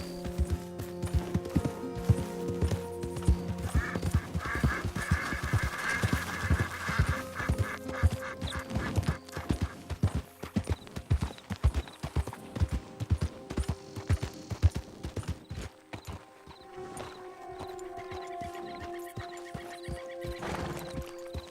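Horse hooves clip-clop in the video game Red Dead Redemption 2, a dense run of sharp hoof strikes that slows into sparser steps, with game music and ambience behind.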